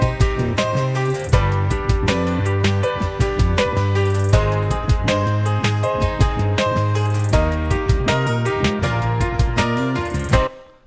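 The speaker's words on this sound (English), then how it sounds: "that together with the drums and the guitars and the piano sounds like this" Full indie pop arrangement, with drums, guitars, piano and bass playing together in a bright, driving groove, regular drum hits marking the beat, loud and without talk until it stops.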